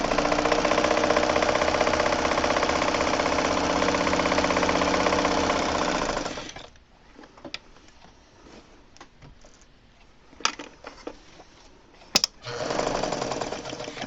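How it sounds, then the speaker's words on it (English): A vintage Deluxe zigzag dressmaker sewing machine, freshly serviced, runs with a loud, steady mechanical whir for about six seconds, goes quiet apart from a few small clicks and taps, then starts running again near the end. "I'll give you a quick demo on this deluxe zigzag dressmaker machine"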